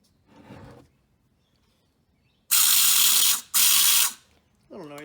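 A rebuilt car windshield washer pump runs in two loud whirring bursts of about a second each, spraying fluid from the reservoir bottle through a nozzle, with a brief voice before and another after.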